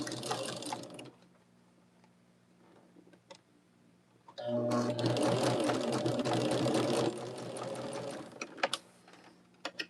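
A sewing machine stitches quilt block seams for a Bear Tracks block, with a short burst near the start, a pause with faint ticks, then a steady fast whir for a few seconds before it slows and stops with a few clicks.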